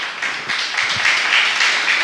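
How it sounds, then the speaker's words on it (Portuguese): A church congregation applauding during a service, a dense, steady wash of many hands clapping that holds for two seconds. "aplaude o nome do nosso Senhor Jesus Cristo"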